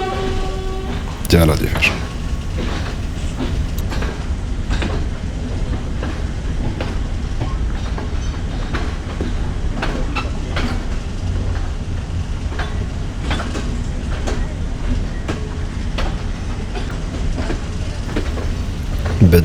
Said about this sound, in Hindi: 797 लोकोमोटिव के लीड में हमारी ट्रेन नंबर 1008 बडूला से रवाना हुई।